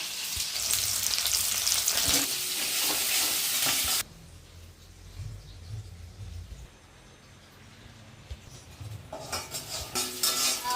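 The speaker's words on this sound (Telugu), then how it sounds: "నూనె అయితే బాగా వేడింది కదండి పచ్చిమిర్చి ఉల్లిపాయలు వేసుకున్నాను కొంచెం కరేపాకు కూడా వేస్తున్నాం" Green chillies, onions and curry leaves hit hot oil with a loud crackling sizzle for about four seconds, settling into a quieter spluttering fry with spoon scrapes against the pan before the sizzle rises again.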